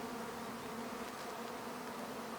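Honey bees from a swarm being hived produce a dense, steady buzzing hum that is close and continuous, with no voices.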